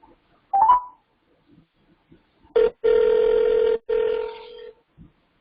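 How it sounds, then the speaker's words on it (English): An outgoing phone call: a short electronic tone, a pause, then a ringback tone in a few long steady bursts, clear and close, with no voices. "give her a call like literally right now to see if she picks up"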